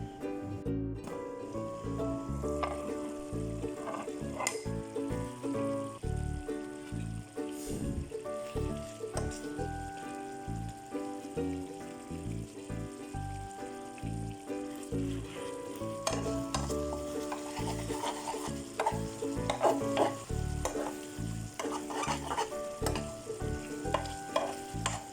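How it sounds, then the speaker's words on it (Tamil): A drumstick curry cooks in a pan, sizzling and bubbling steadily up close, with frequent scraping stir strokes throughout. "15 நிமிஷம் நல்லா கொதிக்கட்டும்."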